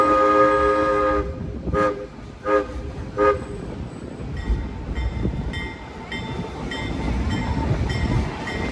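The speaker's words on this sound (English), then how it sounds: "That whistle signal you heard does mean that we are approaching the double gauge station" Georgetown Loop Railroad steam locomotive whistle in Colorado: a long sustained blast, then three short toots, followed by the steady rumble and clatter of the moving train.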